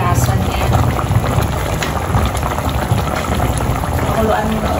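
Coconut milk (gata) simmering with tilapia in a Filipino ginataang tilapia with batwan, a steady close bubbling boil running the whole time with a voice talking over it.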